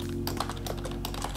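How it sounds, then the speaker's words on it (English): Rapid bursts of computer keyboard typing while coding a solution, clustered clicks and key clatter close up, with a steady low hum underneath and no talk. "Oh my god, I'm typing so much."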